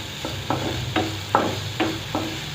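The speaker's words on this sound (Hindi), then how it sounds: "प्याज को हमने हल्का सा ट्रांसपेरेंट पिंक कलर का करना है ताकि इसका कच्चापन ख़त्म हो जाए" Chopped onion fries in a pan for bread roll stuffing, a steady soft sizzle broken by about six evenly spaced scrape-and-stir strokes, with no voices.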